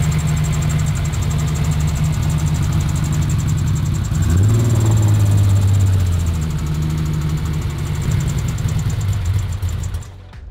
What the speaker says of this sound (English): at least she's idling better than before